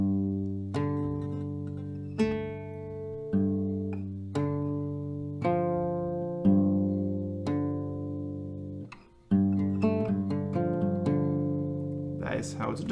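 Single plucked notes on an acoustic guitar ring out slowly and one at a time, each left to decay before the next, played close and clearly by a player teaching the riff of a song.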